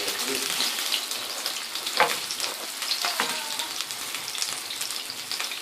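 Chicken balls fry in hot oil with a steady, dense sizzle, crackling and popping close up throughout, with a few sharper spits and no voices.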